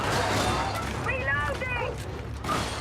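A weapon reloads in a video game with a quick run of mechanical clicks and ratcheting clacks at moderate volume over a steady background hum.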